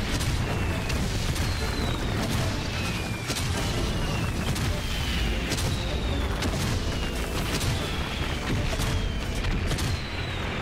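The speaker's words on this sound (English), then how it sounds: "Are those the bombs?" Bombs explode over and over in the war game Valiant Hearts, making a rapid string of loud booming blasts and rumbling bursts that run continuously, with a voice now and then faintly under the din.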